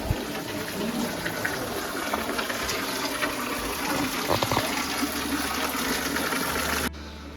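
Spring water pours steadily from a cow-mouth stone spout at a temple, a close, continuous gushing splash that holds level throughout before dropping away at the very end.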